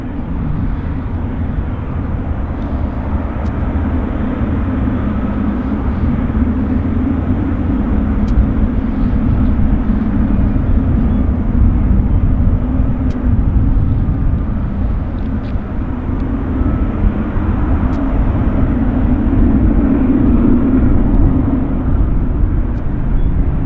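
An airliner departing Vancouver airport on its Toronto service, heard as a steady, loud, broad roar and rumble that holds for over twenty seconds without letup.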